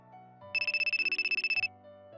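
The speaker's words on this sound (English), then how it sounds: "My phone vibrated." A phone ringtone chimes in a rapid run of bright pulsing beeps for about a second over a soft musical background, fairly clear and close.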